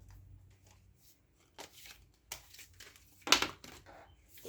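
Tarot cards shuffled by hand in a few short bursts of riffling and rustling, close and fairly quiet with pauses between, no talk.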